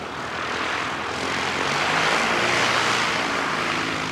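A fixed-wing aircraft on approach roars steadily and loudly overhead, a broad continuous engine drone that swells slightly as it passes.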